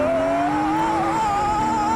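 An Aston Martin sports car engine howls at high revs, its pitch wavering and climbing slightly as it holds a loud, sustained note.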